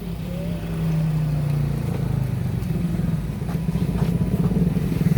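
Motorcycles pass on a road through a nature park between mountains by a river, their engines rumbling loud and close with rising revs and some rattling clatter, no speech.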